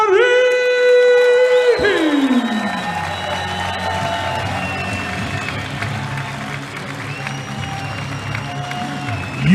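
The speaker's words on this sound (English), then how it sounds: "You can hear from the applause in the crowd." A large arena crowd applauds and cheers loudly as an arm wrestler, the European and world champion, is introduced at an East versus West arm-wrestling event; a sustained roar of clapping and whoops runs beneath a tonal announcer sting.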